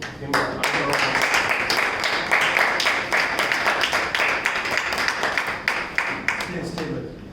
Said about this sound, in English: Let us give him a round of applause.